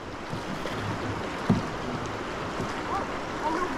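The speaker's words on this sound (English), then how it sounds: "this is the first kind of ripples. Good paddling, Bear." Canoe paddling on a river through the first small ripples, with a steady wash of moving water and wind and a single sharp paddle splash or knock near the middle, heard alone with no talking.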